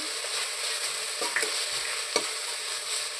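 Chilli powder and coriander powder sautéed in hot oil for a thick hotel-style empty salna, steady frying hiss with a few quick spatula scrapes and taps, no voices.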